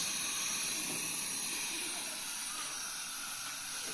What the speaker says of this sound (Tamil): இப்போ வந்து சூப்பராக வந்து வேக வச்சாச்சு, நல்லா கொதிச்சு வந்துருச்சு